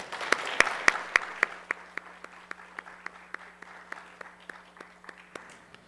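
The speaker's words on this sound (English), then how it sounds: "So let's give them a round of applause." Sparse applause from a modest audience at a credit union annual member meeting honoring long-serving employees, scattered individual claps that thin out over several seconds.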